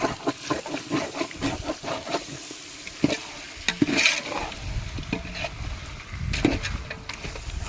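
Masala being stirred into biryani meat pieces in a pot over a wood fire, with a continuous scraping, sizzling, frying texture and irregular clanks of the stirring utensil close up.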